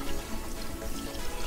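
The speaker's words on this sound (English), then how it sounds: "when it does, water comes out of that hose." Water gushes from a pressurized RV water hose, a loud steady hissing spray that runs unbroken, heard up close.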